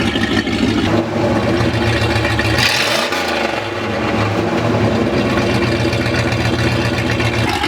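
A loud, rough car engine idles steadily with a rattly, blown-out exhaust rumble; it dips briefly mid-way, then settles back into a harsh drone.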